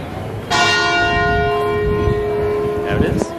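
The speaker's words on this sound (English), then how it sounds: "The half hour bell." A church bell in the old town of Kotor rings the half hour, one loud clear stroke that hangs and slowly fades under outdoor crowd noise and nearby voices.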